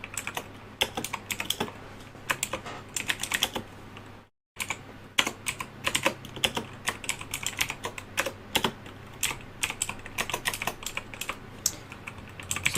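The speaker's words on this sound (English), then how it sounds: "I've decided to try and touch type my way through this one." Touch typing on a computer keyboard while writing code, a steady run of close, crisp key clicks in uneven bursts with a brief pause near the middle, no voice.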